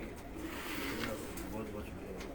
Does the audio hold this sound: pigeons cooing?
yes